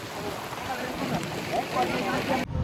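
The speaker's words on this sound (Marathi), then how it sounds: "मस्त पाऊस पडतोय." Monsoon rain pours steadily outdoors during a family trip, giving a broad, continuous hiss that ends abruptly. The rain stays loud and close throughout, with faint wind buffeting the microphone.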